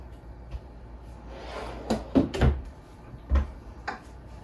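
A spice drawer in an Alliance Avenue 30RLS RV slides open and shut, with a few quiet knocks and clunks from nearby, ending in sharper bumps as it closes.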